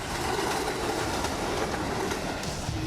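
A train rolls past on a railway track, a dense steady rumble with rhythmic clatter of wheels over rail joints, loud and close, with no voices.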